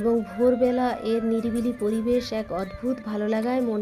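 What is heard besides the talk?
No everyday noises stand out.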